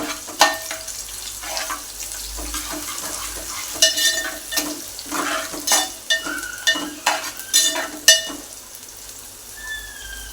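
Onion sautéing with garam masala in a pan, a steady sizzle broken by repeated scraping stirs of a spatula against the pan, close and fairly loud.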